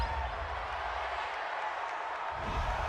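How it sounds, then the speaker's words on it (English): Football stadium crowd at an Arizona Cardinals versus Cleveland Browns game reacting to a roughing-the-passer penalty, a broad, distant roar and murmur of disapproval holding steady throughout. "Well, this crowd does not like that call."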